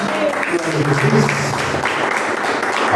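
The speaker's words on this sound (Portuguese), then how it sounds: "Então, salve de palmas essa palavra." Church congregation applauding together during a sermon, a steady wash of clapping with voices and tonal sound mixed in underneath.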